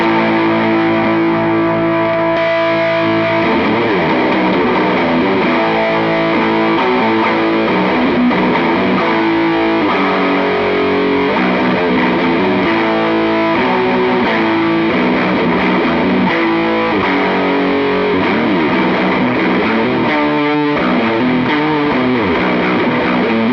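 Electric guitar played through a Traynor TS-25 amp with heavy fuzz distortion, thick and saturated, with sustained chords and notes ringing continuously and loudly, no voices.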